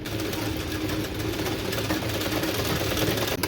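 A sewing machine runs continuously while stitching sleeves onto a blouse, a steady fast mechanical whir heard up close with no talking.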